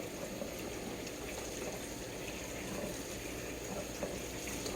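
Cold tap water runs steadily while raw chicken thighs are rinsed, a constant close hiss and splash with no pauses and no talk.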